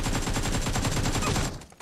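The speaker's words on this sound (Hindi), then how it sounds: "अभी छलांग मारते हुए गोली चली" Rapid automatic gunfire in PUBG Mobile, a dense loud burst of evenly spaced shots for about a second and a half that cuts off abruptly, then one last faint report.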